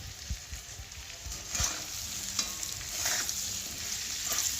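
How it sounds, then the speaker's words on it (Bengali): Spice masala for a hilsa fish curry sizzles and fries loudly in a pan, with irregular scraping stirs and clinks of a utensil over a steady hot crackle close by. "একটু কষাবো, কষিয়ে তারপরে জল দিয়ে দেবো।"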